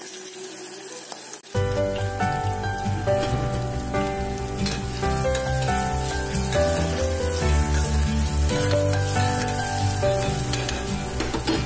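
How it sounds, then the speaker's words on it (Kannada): Ginger garlic paste hitting hot oil in a frying pan, a sudden loud, close sizzle that crackles steadily and continuously with light stirring underneath. "ಈಗ ಇದಕ್ಕೆ ಸ್ವಲ್ಪ ನಾನು ಶುಂಠಿ ಬೆಳ್ಳುಳ್ಳಿ ಪೇಸ್ಟ್ ಅನ್ನ ಹಾಕ್ತಾ ಇದ್ದೀನಿ"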